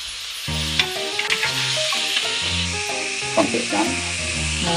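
Meat added to a hot pan sizzles with a loud, continuous crackling hiss, while tonal voices or music overlap on top.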